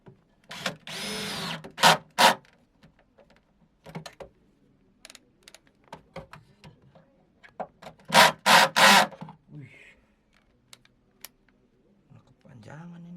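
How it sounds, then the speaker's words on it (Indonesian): Bursts of a power drill whirring in short runs, drilling holes while fitting an RDW 12LS60 midrange speaker, with clicks and handling noises between them and quiet background sounds. "Kita bor 4 aja ya."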